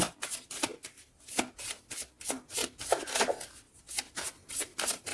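Tarot cards being shuffled and one drawn for a reading, a rapid run of crisp riffling and slapping bursts at close range, steady and unbroken, with no voices over it.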